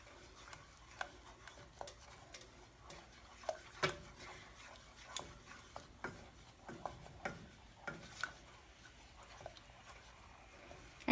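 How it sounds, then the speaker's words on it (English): Two-ingredient modeling clay mixture being stirred by hand, soft scraping and rubbing strokes with light taps in an irregular rhythm, quiet and close with no talk. "All you do is stir it."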